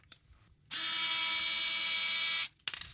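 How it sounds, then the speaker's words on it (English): Electric screwdriver driving a T8 Torx bit to back out a pistol magwell screw: one steady, loud motor whir lasting nearly two seconds, starting and stopping abruptly, with small handling clicks before and after. "I'm using an electric screwdriver just to make this go faster"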